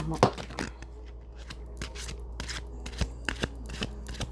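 A tarot deck being shuffled, with soft riffling card noises and sharp flicks as cards slip out, close up under a faint background hum.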